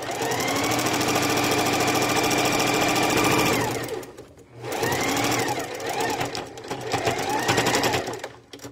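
A sewing machine stitches fabric with a fast, steady, close whirring run that stops briefly around the midpoint, then starts again in shorter spurts of stitching.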